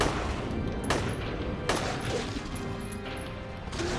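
Gunfire bursts in Silent Hill 3, with a few sharp loud reports standing out over a dense, noisy wash of battle sound and music.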